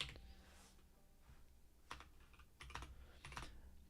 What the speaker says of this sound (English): I got a new keyboard, specifically one that is mechanical, which is great. It sounds lovely